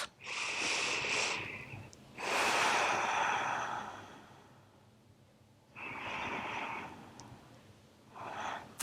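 Deep, slow breaths drawn while holding a strenuous yoga pose, with long audible inhales and exhales separated by a quiet pause, close and fairly soft.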